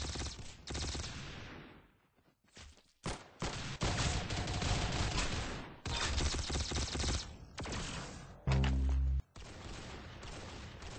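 Gunfire in the video game Arsenal comes as loud bursts of rapid shots and single cracks, separated by short pauses, with one heavy thump near the end and no talk.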